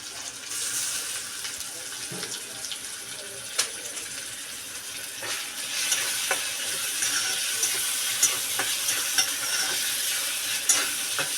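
Onion and tomato sauté in a pan with a soft, steady frying hiss, punctuated by sharp spatula scrapes and taps as the mixture is stirred up close.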